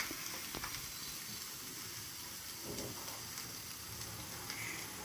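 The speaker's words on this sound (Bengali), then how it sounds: "খানিকক্ষণ রাখার পরেই দেখুন মাছগুলো কীরকম ভাজা ভাজা হয়ে এসছে। হাতা দিয়ে খুব সাবধানে নেড়ে দেবেন" Small kanchki fish fry in oil in a pan with a constant soft sizzle and hiss, while a ladle occasionally scrapes and taps as they are gently stirred.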